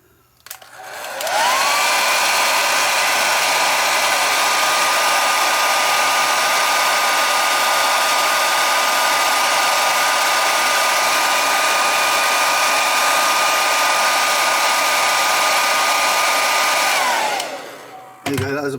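Hair dryer blowing hot air to loosen a part on a 1/12 scale action figure, a steady loud whirring roar with a whine that starts, holds for about fifteen seconds and cuts off.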